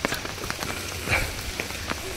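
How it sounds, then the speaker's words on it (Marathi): Rain falls steadily outdoors at a work site during a downpour, an even hiss of drops with scattered louder patters throughout and no clear talk. "पावसाने हजेरी दिलेली आहे. पावसाने त्याचा रंग दाखवलेला आहे."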